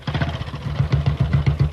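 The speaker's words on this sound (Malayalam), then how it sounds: "അവിടെ ബൈക്ക് സ്റ്റാർട്ട് ചെയ്ത ശബ്ദമാ" A motorbike engine turning over nearby, steady rapid low putter pulses lasting under two seconds with no talk over it.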